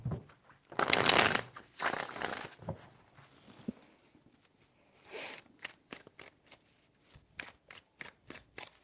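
A deck of tarot cards is shuffled close up in two loud riffling bursts, followed by softer scattered taps and flicks as the cards settle and are handled.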